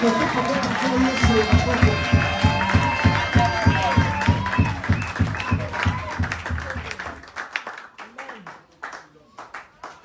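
A church congregation claps in a quick, steady rhythm with cheering voices, loud and lively, before the clapping thins into scattered claps and voices.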